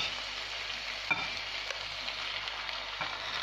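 Onions and tomatoes frying in a pan, a steady soft sizzle holding evenly throughout with a few faint clicks of stirring, no voices.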